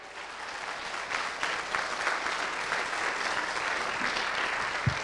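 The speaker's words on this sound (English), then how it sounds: "Ladies and gentlemen, will you please give it up for Leland Klassen?" Audience at a banquet applauding as a comedian is introduced, a steady, dense wash of clapping that holds at full strength throughout without talk.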